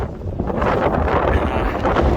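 Steady, heavy wind buffets a microphone outdoors on a thru-hike trail, a loud continuous low rumble with no pauses and no voices.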